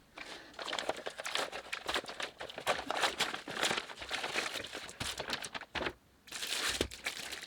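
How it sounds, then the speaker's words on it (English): A massive envelope holding a Stylophone GEN X-1 semi-hard shell case is torn open and rummaged through, with loud bursts of crinkling, ripping paper and rustling, close and irregular, with brief pauses. "it came really quickly in a massive envelope. So let's open it up."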